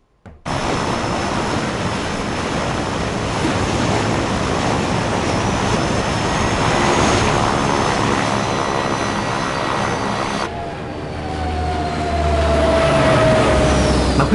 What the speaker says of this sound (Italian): Ma quindi Steve sa effettivamente pilotare un aereo?